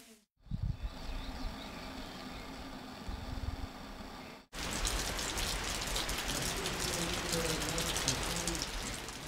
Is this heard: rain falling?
yes